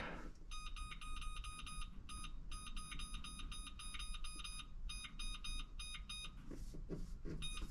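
A kitchen oven timer is set, giving a rapid run of crisp, high electronic beeps in clusters with short pauses, fairly faint over a low background hum.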